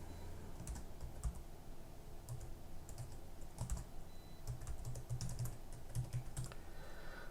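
Keys clack on a computer keyboard as a password is entered, a run of close, quick, irregular taps with short pauses and a low background hum, no voices present.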